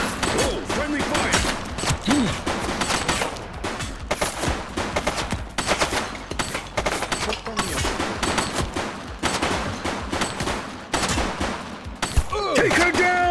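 Gunfire in The Precinct, a police video game, crackles in rapid repeated shots and bursts throughout, dense and fairly close, with brief voice-like sounds mixed in near the end.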